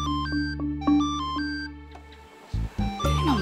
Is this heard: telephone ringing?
yes